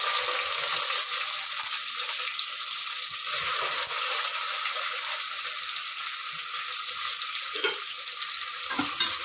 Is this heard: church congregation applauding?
no